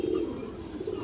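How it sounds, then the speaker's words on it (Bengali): A khaki female pigeon, a young hen about a year old, coos in low murmuring pulses, close and steady, with no talk over it. "একটা খাকি মাদি কবুতর"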